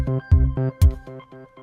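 A synthesizer preset loops a punchy drum pattern with a bright pitched lead line over it, giving short rhythmic hits with sustained tonal notes, heard alone at a close, steady level.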